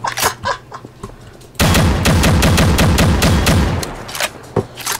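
Rapid automatic gunfire from a TFA weapon in Garry's Mod, a dense loud burst of repeated shots lasting about two and a half seconds, preceded and followed by a few scattered single shots.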